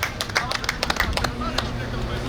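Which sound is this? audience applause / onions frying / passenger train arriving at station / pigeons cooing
audience applause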